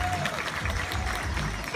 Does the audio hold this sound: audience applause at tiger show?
yes